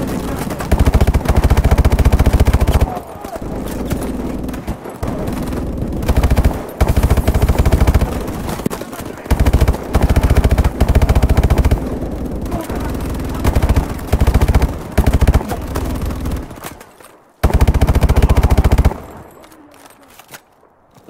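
An enemy machine gun turret fires in Call of Duty Advanced Warfare, with long, loud, rapid bursts that repeat with short pauses and a final burst before it drops off, while voices talk at times.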